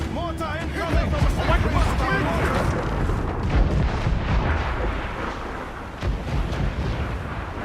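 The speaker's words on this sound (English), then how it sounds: "Captain! Mortar incoming from a" Mortar and cannon fire from a naval battle in Assassin's Creed IV Black Flag booms steadily under dense shouting crew voices, a continuous loud rumble of blasts and battle noise throughout.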